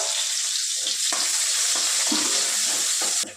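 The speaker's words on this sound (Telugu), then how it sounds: "ఇప్పుడు మనం దీంట్లో సన్నగా తరిగి పెట్టుకున్న ఆనియన్, పచ్చిమిరపకాయలు వేసుకొని ఫ్రై చేసుకుందాం" Sliced onion and green chillies fry in a pan for a capsicum masala gravy, giving a steady, loud sizzle with a few scraping stirs of a spatula throughout.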